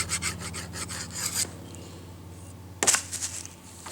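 Metal file scraping a burr off a worn chainsaw bar rail, a close run of rapid rasping strokes, then a pause and a second short burst of filing.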